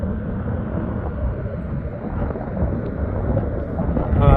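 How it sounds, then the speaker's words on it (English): A Ryanair airliner takes off at Stansted Airport, a loud, continuous low engine rumble heard from outside that builds slightly toward the end. "And this Ryanair taking off."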